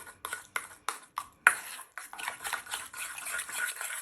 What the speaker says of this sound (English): So as I'm stirring, I'm squishing it on the side of the bowl.